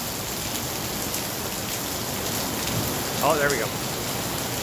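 Heavy rain pours steadily during a storm, a dense and even hiss that lasts throughout, with a short spoken exclamation near the end.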